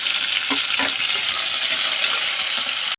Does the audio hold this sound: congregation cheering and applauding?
no